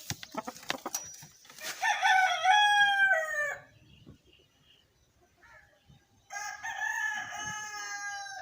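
Farmyard chickens clucking with a rooster crowing, two long crows several seconds apart, close and clear, with soft clucks and rustling in between.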